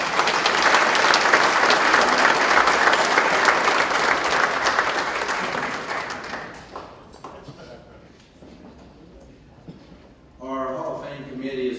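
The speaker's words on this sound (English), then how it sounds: "Let's give them a round of applause." An audience at a 2019 athletics Hall of Fame induction ceremony gives former inductees a loud round of applause. The full clapping fades out over several seconds, and a voice then starts speaking over the room.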